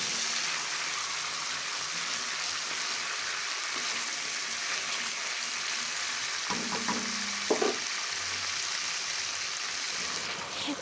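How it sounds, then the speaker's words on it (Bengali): Onion, garlic and ginger frying in a pan, heard as a steady, dense hiss of hot oil throughout, with a brief burst of stirring scrapes partway through, close and continuous, no one speaking. "লবণ দেওয়ার পরে আবারও কিছুক্ষণ কিন্তু নাড়তে থাকবো"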